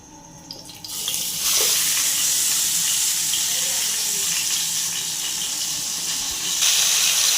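Marinated chicken drops into hot desi ghee in a small kadai, bursting into a loud, steady hissing sizzle that rises abruptly and holds close, swelling slightly near the end.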